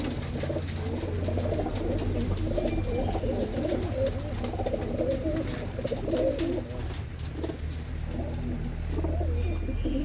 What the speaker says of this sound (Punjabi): ਬਹੁਤ ਲੰਬੇ ਲੰਬੇ ਵਧੀਆ ਕਬੂਤਰ ਨੇ